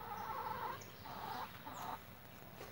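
Chickens cluck on a rural homestead farm: a few short, soft clucking bursts at a modest distance over a quiet outdoor background, with no talking.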